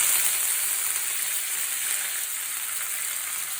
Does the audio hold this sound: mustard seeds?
yes